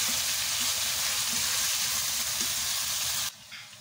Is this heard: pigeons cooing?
no